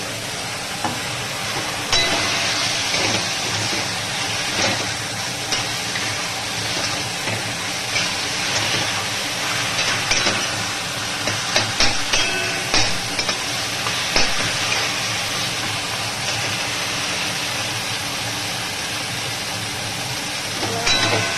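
Hilsa fish heads fry in a hot pan with a loud, dense, continuous sizzle and crackle that stays steady and close for the whole stretch, with no voices.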